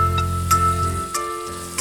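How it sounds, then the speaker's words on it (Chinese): Sizzling stir-fry of pork with minced garlic and ginger in a hot wok, a steady crackle with a few brief stirring scrapes. "8成熟之后，加蒜蓉、姜蓉炒香。"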